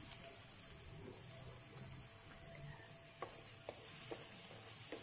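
Shrimp and squid frying in a pan for seafood fried rice, a steady low sizzle with a few sharp clinks of a utensil against the pan near the end, no talking.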